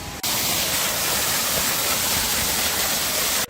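A mountain waterfall on the Gaurikund to Kedarnath trail roars as a dense, constant broadband rush, loud and unbroken from start to finish with no voices.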